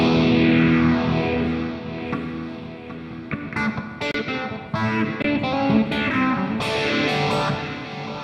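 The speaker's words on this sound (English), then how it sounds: "And then we've got our reverb. Now, one of my favorites is the plate." An electric guitar played through a NUX MG-400 multi-effects unit with plate reverb plays distorted riffs and chords up close. Sustained notes give way to choppy strums, each trailed by a smooth reverb tail.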